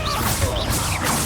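A Bombarda spell goes off in Hogwarts Legacy, a dense, loud burst of crashing, whooshing blast noise that lasts about a second, with a swishing whip-like crack riding over a rumbling low end.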